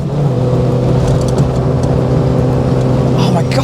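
A Peugeot 205 Rallye engine is driven flat out on the road, giving a loud, sustained, steady engine drone with slight wavering. The sound stays close and constant throughout.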